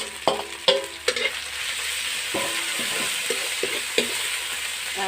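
Leaves tossed into a hot pan alongside ginger, garlic and chilies, crackling and hissing under a steady sizzle, with several sharp bursts and stirring scrapes near the start and middle.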